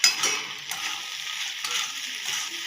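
Potato curry frying in a pan is stirred with a utensil, giving a continuous close sizzle with scraping and clinking against the pan, no talking.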